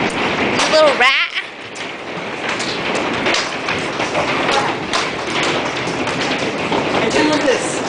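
Hail pounds down outside during a thunderstorm, a dense, steady patter of hard ice pellets striking surfaces, with excited voices talking over it throughout.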